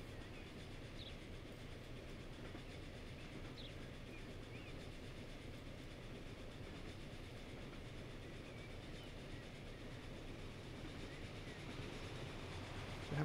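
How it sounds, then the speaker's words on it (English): Train passing in the Transport Fever game on a Chester branch line, a faint, steady low rumble with soft clickety-clack wheel noise running evenly throughout, no talking. "Another train up ahead."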